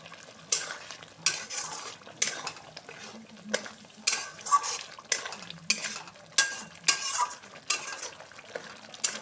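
Fish curry masala being stirred and fried in a pan for Bengali fish kaliya, with repeated sharp spoon scrapes and clinks against the metal at a steady rhythm over a low background sizzle, close and clear.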